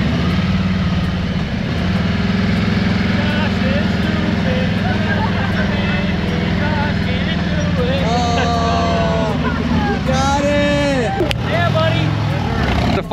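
Several Harley Dyna motorcycles creep along in a slow race over 60 feet at a Thanksgiving shop event, engines idling and burbling steadily with a loud low rumble, crowd chatter and voices running throughout.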